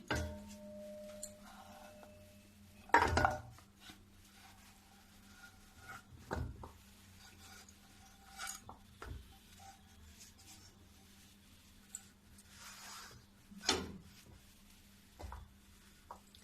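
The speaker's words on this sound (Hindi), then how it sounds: "अब ये बर्तन में भी मैं चलाते रहूंगी जब तक ये नहीं सूखेगी" A spoon scrapes and stirs gur pare dough in a metal pot, with sparse irregular clinks and scrapes spaced across a quiet stretch, one louder knock early on and a faint steady hum beneath, no speech.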